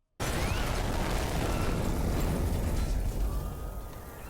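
A film-scene restaurant bombing erupts as a sudden, loud blast after a split second of silence, followed by a sustained roaring rumble and debris that slowly fades.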